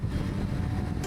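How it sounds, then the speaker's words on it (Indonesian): Pickup truck passing at night on a road, heard from a motorbike during a solo ride, a loud, low rumbling engine and tyre roar that fills the short moment close by. "mobil pick up lewat"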